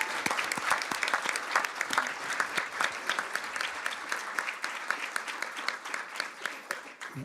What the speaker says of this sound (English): one real quick, more round of applause for the students here for representing Armstrong so well